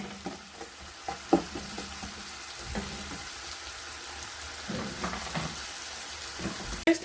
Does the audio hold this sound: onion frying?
yes